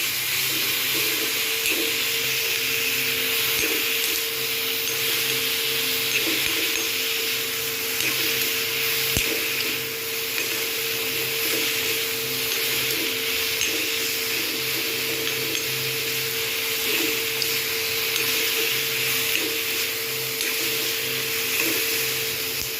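Mixed vegetables sautéing in a pan for brinji rice, a continuous, even, hissing sizzle heard close and unbroken throughout, with occasional faint knocks.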